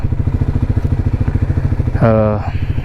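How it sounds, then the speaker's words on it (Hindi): Triumph Speed 400 motorcycle idling with a steady, rhythmic single-cylinder thump, then a revving burst near the end as the engine is blipped; loud and close, with no talk over it. "कोल्ड स्टार्ट कर लें।"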